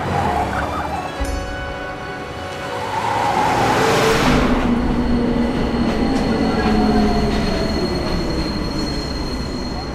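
Metro train wheels squeal loudly on the rails, a sustained high metallic screech over the heavy rumble of the carriages, rising and falling as the train moves through the station.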